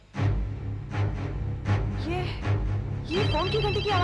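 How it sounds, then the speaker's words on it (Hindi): A telephone bell rings in repeated bursts while people talk over it, the ringing steady and fairly close. "ये फोन की घंटी की आवाज कहां से आ रही है?"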